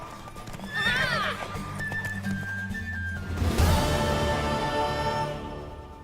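Horses gallop and whinny in The Witcher 3 video game, steady clip-clop hoofbeats running throughout with a loud neigh early on and another whinny midway.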